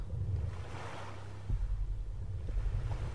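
Ocean waves in the survival video game Stranded Deep: a continuous wash of surf and wind that swells slightly partway through and stays at a steady, moderate level with no speech.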